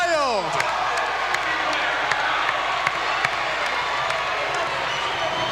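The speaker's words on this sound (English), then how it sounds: "the crowd goes wild" A crowd roars wildly in the stands at a women's college basketball game between Brockport and Fredonia after a long three-pointer. A sustained, loud wall of cheering carries sharp claps, thumps and squeaks throughout.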